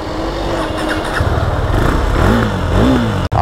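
A motorcycle engine rumbles and revs after a breakdown repair, with popping backfire bursts and a sharp crack near the end.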